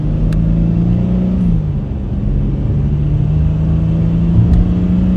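An American-made car driving, heard from inside as a steady low engine rumble and road hum with a faint whir, continuous and fairly loud.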